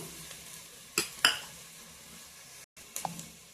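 Onions and chicken curry for village-style country chicken are stirred in a pot, giving quiet scraping with a couple of sharp metallic spoon clinks against the vessel and a brief dropout; close and fairly faint.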